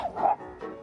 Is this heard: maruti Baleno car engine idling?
no